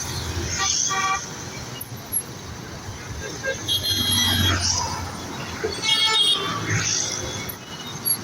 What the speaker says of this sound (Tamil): அவ்வளோ ஹாரன் அடிச்சு கூட அவங்க நவுத்த மாட்டேங்கிறாங்க பாருங்கள்